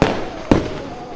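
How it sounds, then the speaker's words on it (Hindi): Fireworks go off at a birthday celebration, two sharp cracks about half a second apart over a steady background din with voices. "आतिशबाजी भी जमकर की गई"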